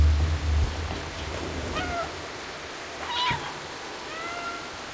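A cat meows repeatedly in the video game Stray, giving several short, clear meows spaced a second or so apart over a low steady background hum, with faint gameplay sounds around them.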